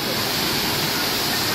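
A waterfall at Malshej Ghat roars loud and close in a constant broadband rush during the monsoon, with visitors passing under umbrellas nearby.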